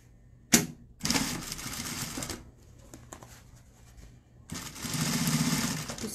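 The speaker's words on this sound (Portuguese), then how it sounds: "vou voltar aqui com o tecido e vou bater a minha costurinha" Sewing machine stitching the fabric of a crossbody bag, with two bursts of rapid, steady mechanical chatter close by, separated by a pause with light handling of the cloth.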